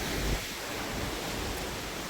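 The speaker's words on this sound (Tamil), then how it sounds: "இந்த மாதிரி தண்ணி வந்துட்டுருக்கு, ஸ்பீடாக வருது." Seawater rushes fast up a beach in the Seychelles, a steady broadband wash of surf with a brief louder surge at the start, close and continuous with no voices.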